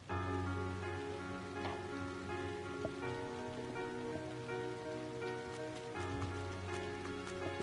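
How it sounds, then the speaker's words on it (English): Steady rain from the video game Trails of Cold Steel, falling on the town of Trista in June, a dense continuous hiss of drops on surfaces under a soft musical backdrop, with no voices. "a rainy spell seemed to hang over Trista"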